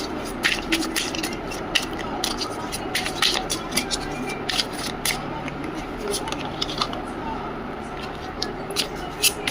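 Tarot cards being drawn and shuffled during a Hindi-language reading, a steady run of soft scraping, flicking and slapping card sounds close by, with a voice speaking quietly under them.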